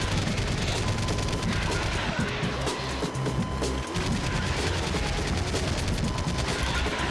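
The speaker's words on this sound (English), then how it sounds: "So there's my assault rifle." Assault rifle gunfire from the light-gun shooter House of the Dead: Overkill, in a boss fight against the Crawler: dense, continuous rapid shots with crashing impacts, loud and unbroken throughout, with no talking.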